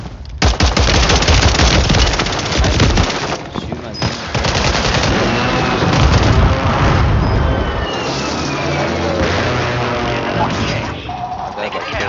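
Rapid automatic gunfire bursts loud and close in Call of Duty Warzone on Rebirth Island, dense overlapping shots and impacts filling the whole stretch, with players talking over the shooting.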